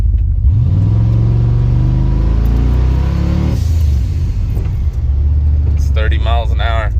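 A twin-turbo GMC truck launches hard from a standstill, the engine roar climbing steadily through the revs before easing, with someone talking over the loud, close drone.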